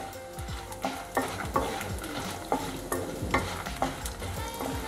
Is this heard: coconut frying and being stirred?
yes